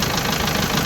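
A Kubota tractor engine fitted with a new alternator runs at a steady idle nearby, an even, continuous mechanical hum with a faint rhythmic knock, no voices, over a very short stretch.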